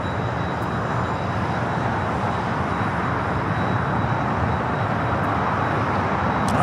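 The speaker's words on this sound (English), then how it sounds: "our next arrival, Japan Airlines Flight 16, A350-1000 coming in from Tokyo, Haneda" A Japan Airlines A350-1000 arriving from Tokyo Haneda on the north side at LAX gives off a steady, broad jet roar, loud and constant throughout with no talking.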